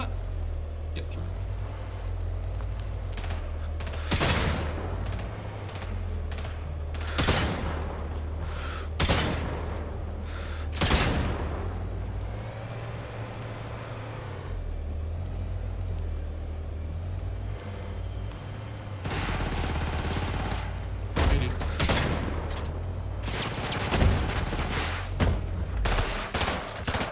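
Bursts of gunfire in the Brigador video game ring out repeatedly over a constant low engine rumble, with a voice talking over the action at times.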